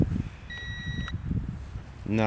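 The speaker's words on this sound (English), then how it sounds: "The transmitter is still beeping though, like it thinks the drone is low on battery." A Sky Viper V2450GPS drone transmitter gives a low-battery warning, a steady electronic beep tone for about half a second, with faint rustling and low handling noise around it.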